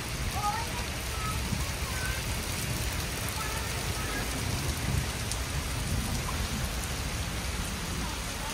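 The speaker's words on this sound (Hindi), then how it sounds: "बारिश बड़ी तेज़ शुरू हो गई है" Heavy rain pours down during a sudden storm outside a home kitchen, a constant dense hiss of drops on surfaces with a low rumble underneath, steady for the whole stretch.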